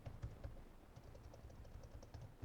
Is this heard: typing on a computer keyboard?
yes